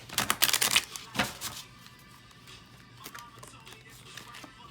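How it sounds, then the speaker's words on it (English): A deck of tarot cards being shuffled close by, with a burst of rapid riffling flutters and slaps at the start, then quieter, sparse card handling. "Ooh, I can't seem to shuffle today."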